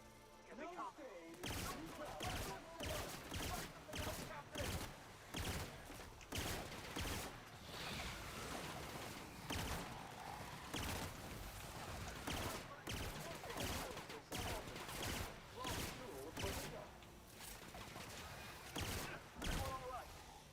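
Burst-fire gun shooting in the sci-fi RPG video game The Outer Worlds, with repeated sharp gunfire bursts throughout a busy combat mix and a player talking over it.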